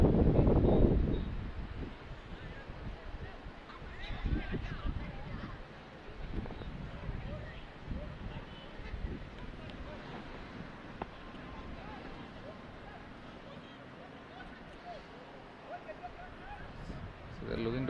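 Steady wind gusts across an open ultimate frisbee field during a Gujarat versus Uttar Pradesh match, with a continuous broadband rush and buffeting on the microphone underneath ongoing commentary.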